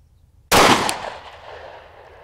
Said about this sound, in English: I'm a terrible shot, so I don't know why I'm shooting free-handed or off-handed instead of off a bench